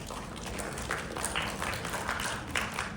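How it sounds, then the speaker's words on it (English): Seminar audience applauding a presenter at a BIM event, a short even patter of many hands filling the room without speech. "let's give an applause to Mr."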